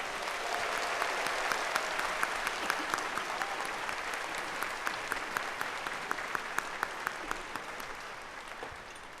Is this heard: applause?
yes